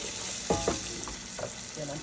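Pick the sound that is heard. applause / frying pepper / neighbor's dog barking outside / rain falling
frying pepper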